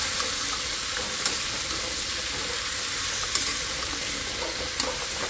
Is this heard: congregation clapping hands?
no